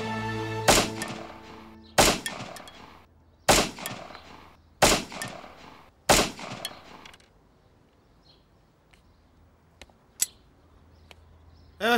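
Five loud, sharp gunshots at even intervals of roughly a second and a half, each with a short ringing decay, followed by fainter scattered clicks and thuds during police weapons training.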